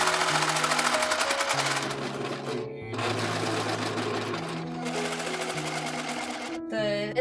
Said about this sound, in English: I can serge all of the edges because I'm going to be handling it quite a lot